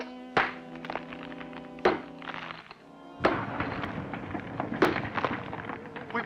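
A pick strikes hollow rock in sharp, resonant thunks, four distinct blows spaced a second or two apart, close and fairly loud with some rumbling debris between.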